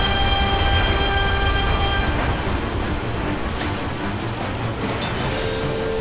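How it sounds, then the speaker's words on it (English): A loud, steady rumble of the Armored Train boss rolling closer in the video game Lost Odyssey, with a sustained horn-like drone fading partway through and clattering mechanical noise underneath. "Now we see a super train coming at us."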